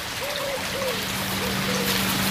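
Water runs and overflows everywhere at a self-sufficient homestead, giving an even trickling rush under a low steady hum, with a few faint tonal sounds drifting over it.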